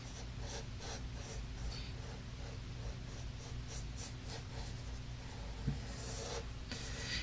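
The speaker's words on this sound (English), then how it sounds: "And I'm going to draw a leaf." A pen or pencil draws a leaf on paper, making soft repeated scratching strokes in an irregular rhythm. The strokes are close and quiet, with a low hum underneath.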